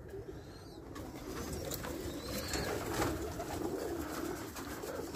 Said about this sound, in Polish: Gołąbki wszystkie są w gołębniku.